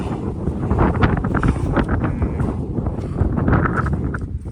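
Strong wind gusting across a mountainside on a winter hike, roaring as steady buffeting rumble against the microphone for the whole stretch with no talk.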